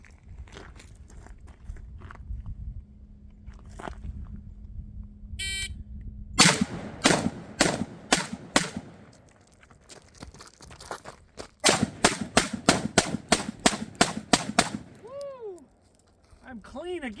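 Tavor SAR rifle running a 15-round drill, sharp loud shots in quick groups, a brief gap, then a dense rapid string, followed by faint metallic ringing as the firing stops.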